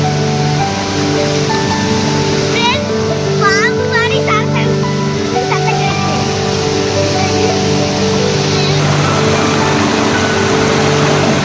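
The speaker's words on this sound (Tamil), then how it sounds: "பாருங்க தண்ணி வரப்போ எப்படி கேட்குது பாருங்க. கால் குயின்னு கேட்டுட்டே இருக்குது." Loud, steady rush of water flowing straight down from a hill into a home garden, with a few faint chirps and a constant low hum underneath.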